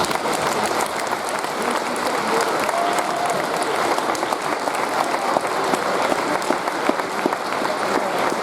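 An audience gives a round of applause for students heading into military service at a school district Veterans Day ceremony, with dense, sustained clapping that fills the room from start to finish.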